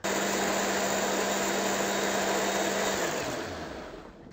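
An electric blender grinds ingredients for chueotang, Korean loach soup, with a loud, steady, close whir that holds for about three seconds before the motor winds down and fades.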